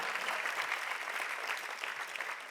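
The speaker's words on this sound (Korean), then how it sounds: "Ma che applauso è alla felicità?" An audience at a faith-community testimony-sharing gathering gives a thin, steady applause: many hands clapping quietly and evenly for about two and a half seconds, fairly faint and distant.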